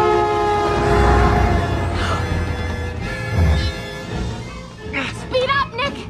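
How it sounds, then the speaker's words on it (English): Train bearing down in an animated Zootopia scene: a loud rumbling approach with horn-like tonal blasts, then fading under excited shouting voices near the end. "There's another train coming!"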